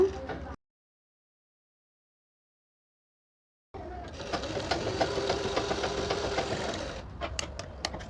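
A domestic sewing machine runs in a steady, close whirring rattle as it stitches a blouse. A short burst comes first, then a pause, then a longer continuous run that ends with a few separate clicks.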